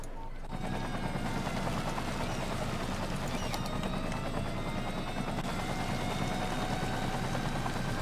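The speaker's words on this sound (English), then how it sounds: "Fire helicopters en route." A fire helicopter in the city-building video game Cities Skylines, a continuous loud rotor thrum with steady engine drone that kicks in abruptly and holds evenly throughout.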